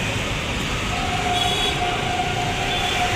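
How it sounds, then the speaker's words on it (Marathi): A train runs on the line above a short pedestrian tunnel linking east and west, a steady loud rumble of wheels on rails with faint high squeals, no speech. "आणि बघावरची ट्रेन पण चालली"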